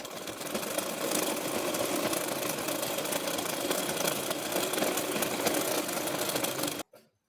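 A sewing machine runs continuously while stitching the hem of a straight palazzo pant, a steady fast whirring drone close up that stops abruptly near the end.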